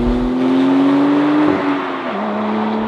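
A Porsche 991.2 Carrera 4S engine in sport mode hums at a steady, throaty idle-to-cruise pitch, with a slight dip in revs partway through, close and fairly loud.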